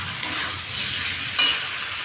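Water is poured into a pan of paneer curry frying with cumin powder, turmeric, salt and a little sugar, giving a steady close sizzle with two sharper hissing bursts.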